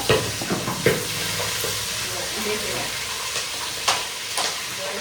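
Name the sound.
tempering dried pigeon peas with chillies, mustard seeds, cumin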